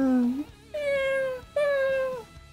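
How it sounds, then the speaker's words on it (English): Cartoonish baby voices from the Happy Wheels video game wail like desperate cats, three drawn-out, falling meow-like cries in a row, loud and close with brief gaps between them. "Quite why they'd sound like desperate cats, I don't know."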